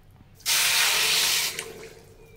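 Water pouring in a steady, loud rush for about a second into a pan of sugar to make syrup for bread gulab jamun, then tapering off with a few trailing splashes.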